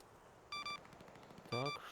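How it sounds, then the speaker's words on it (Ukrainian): Two short bursts of rapid gunfire, distant and tinny like game audio, separated by a brief quiet gap. "Так, десь є вибухи, десь є стрільба по правій стороні."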